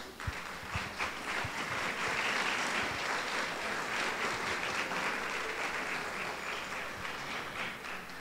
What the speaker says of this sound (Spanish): a mí me encantaría como, ¿verdad?, como ser más, como que aplaudamos, algo así,